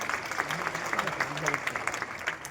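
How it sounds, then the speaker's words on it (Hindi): Audience applause at a poetry recital in Delhi, a steady patter of many hands clapping at moderate distance that holds for the whole stretch without pause. "मेरा मन है एक बार जोरदार तालियां हो आपकी उपस्थिति के लिए"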